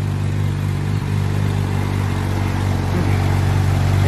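A high-performance sports car engine, from a Porsche, Ferrari and Alfa Romeo lineup, rumbles steadily at close range with a deep, even drone and only slight swells in pitch, no voices over it.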